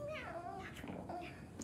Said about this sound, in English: who just like went meow?